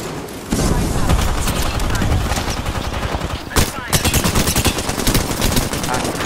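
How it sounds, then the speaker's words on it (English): Rapid bursts of gunfire rattle loudly and continuously in an Apex Legends match, with a brief pause before the shooting resumes in quick volleys. "Someone's shooting a triple take."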